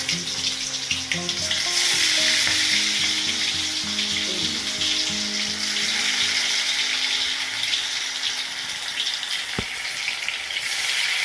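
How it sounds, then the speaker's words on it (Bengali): Steady, continuous sizzling of fish koftas frying in hot oil, loud and close, with no talking throughout. "এবার আমি সবগুলো ভেজে দেব।"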